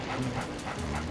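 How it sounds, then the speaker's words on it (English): Guard dog Spooky from the video game Luigi's Mansion, loud repeated barking in a steady series of close yaps over constant background noise. "this dog is about as loud as the 2 dogs that I have to put up with"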